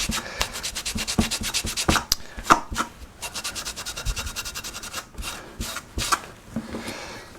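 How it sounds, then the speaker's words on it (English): A wire brush scrubs grit and swarf off a sharpening benchstone in quick, repeated close strokes, a steady run of rasping rubs with a few harder scrapes. "you can use a wire brush or even a rag to sort of brush that off regularly, and that keeps that stone sharp"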